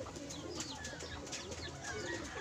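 Pigeons being released from a loft, with soft cooing and fluttery bird calls over steady outdoor background noise for a couple of seconds.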